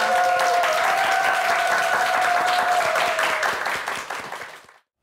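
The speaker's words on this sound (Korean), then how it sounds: "감사의 박수 부탁드리겠습니다." An audience applauds after a lecture by an anti-hidden-camera expert on a TV morning show, dense continuous clapping over a sustained music tone that fades out toward the end.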